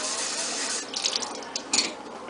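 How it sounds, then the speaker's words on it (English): Water running into a Chia Pet planter, a steady, close hiss of flowing water that breaks into uneven splashes and gurgles as the pour tapers and the planter fills. "Fill Chia planter, which I'm assuming is this, with water and place in drip tray provided."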